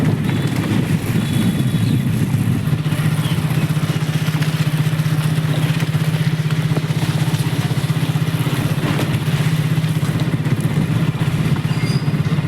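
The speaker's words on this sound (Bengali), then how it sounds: "বাইকে যাইতাছি" A motorcycle rides along on a sunny morning, its engine droning steadily and continuously for over twelve seconds with constant road and wind rumble, close and fairly loud.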